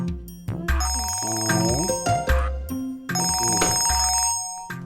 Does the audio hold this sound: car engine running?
no